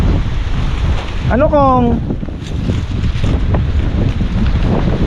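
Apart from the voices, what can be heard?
strong wind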